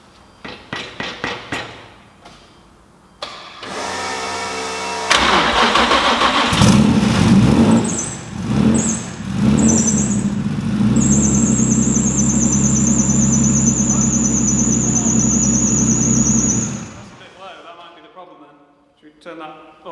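A Nissan 350Z twin turbo with a new fuel system starts up. It begins with several cranking bursts and then catches into a loud running engine. A loose fan belt adds a sustained high squeal before the engine cuts off.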